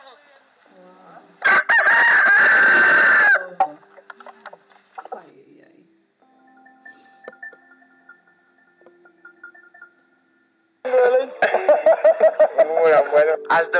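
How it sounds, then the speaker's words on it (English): A rooster crowing loudly in the morning at a Himba village, with one long crow near the start and another drawn-out crow at the end, separated by quieter background sounds. "As the rooster crows"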